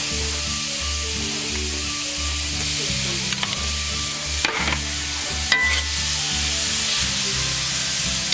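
Onions and chopped jalapeno sizzle steadily on a grill, a close, continuous frying hiss broken by a few sharp clicks and scrapes of stirring, with no voices.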